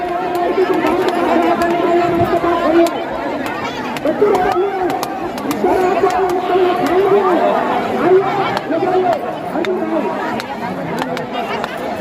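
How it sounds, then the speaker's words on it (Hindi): A large crowd chatters at Pendri pond, a dense outdoor babble of many voices overlapping steadily throughout, close and loud, with occasional nearer voices rising above the hubbub. "देख लो बहुत ज़्यादा ही भीड़ है।"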